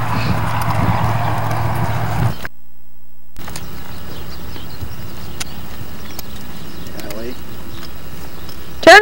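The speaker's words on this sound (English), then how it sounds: "Turner, you stay away from the horses." Horse hooves clip-clopping steadily at a walking pace outdoors, with a brief silent gap and a faint bird call near the end.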